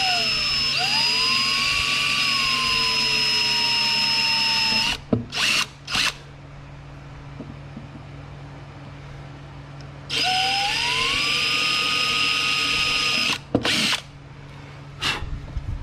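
A power drill boring holes into painted Harley-Davidson Tri Glide saddlebags, two sustained high whining bursts of about five seconds each, loud and close, separated by quieter handling noise.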